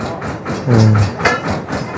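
A water well drilling rig bores into hard ground with a heavy, steady mechanical pounding and a rhythmic pulsing beat. The din is loud and close, with a deeper thud swelling briefly midway.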